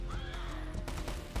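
Horses neigh during a video game battle, with a clear whinny sweeping high and upward over dense, rumbling battle noise and a few sharp impacts toward the end.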